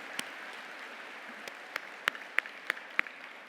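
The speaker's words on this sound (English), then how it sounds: "Let's give a round of applause." Scattered hand claps ring out at a Brock University spring convocation for the Faculty of Applied Health Sciences, a thin sparse patter that builds into several louder, distinct claps toward the end, fairly quiet overall and heard without any talking.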